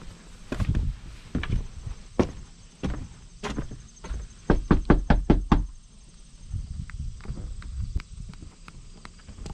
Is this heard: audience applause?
no